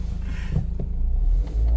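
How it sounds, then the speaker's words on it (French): A Dacia Sandero Stepway engine gives a low, close rumble, a brief muffled drone that swells slightly toward the end of a short stretch. "Regarde-moi la puissance de l'engin. Puis le bruit du moteur."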